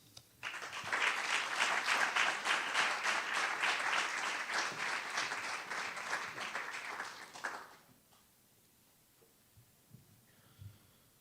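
An award-ceremony audience breaks into sustained applause, dense clapping that holds for several seconds before fading out into quiet room tone.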